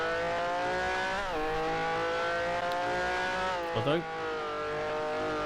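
Ferrari race car engine in a sim racing game, a loud sustained high-pitched whine with clear harmonic tones that dip and climb through gear changes, plus a brief squeal or skid near the end.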